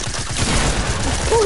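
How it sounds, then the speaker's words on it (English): Gunfire in the Fortnite video game, a dense burst of shots with a pump shotgun in play, loud and continuous across the moment. "Oh, he's got a shotgun!"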